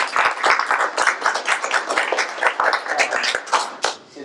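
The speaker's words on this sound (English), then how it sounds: "I also want to give a round of applause to Joelle for helping me co-monitor" An audience at a campus diversity panel claps in a dense, continuous round of applause, with sharp hand claps close by and many more blending behind them.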